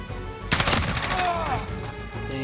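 Video game gunfire from a Gold M4 rifle: a short, sharp burst of shots near the start, then fading echoes, fairly loud and alone.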